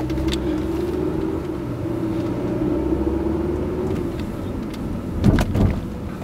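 A Volvo S60 car drives slowly, its engine giving a steady low rumble from inside the cabin, then as it automatically brakes the hum fades and a few brief clunks and knocks sound near the end.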